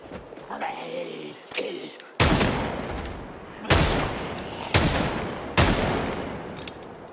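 Rifle fire in the zombie survival game Project Zomboid: a string of loud, sharp shots spaced roughly a second apart, each leaving a short decaying tail, with quieter game sounds before the first shot.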